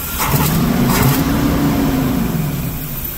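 A motor home's carburetor-adjusted engine idles steadily and loud, with a continuous low rumble and a slight rise in revs near the start.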